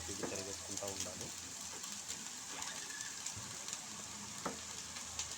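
Egg noodles sizzle and crackle steadily as they are stirred and tossed in a hot pan, a soft continuous frying hiss with occasional scraping, fairly faint throughout.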